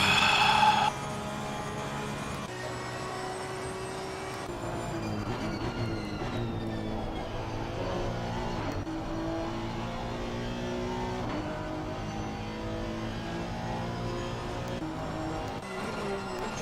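A wounded Porsche race car in Assetto Corsa Competizione, racing a 12-hour endurance event at Bathurst, howls through repeated rising revs and gear changes, its engine note climbing and dropping in steady cycles and loud throughout.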